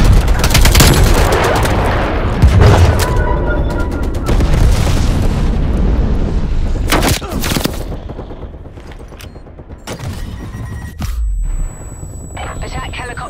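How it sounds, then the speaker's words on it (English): A napalm strike in Call of Duty: Black Ops Cold War brings loud, dense bursts of explosions and gunfire that keep going for several seconds, then come again as sharper separate blasts, with an in-game voice talking over them. "Napalm strike inbound."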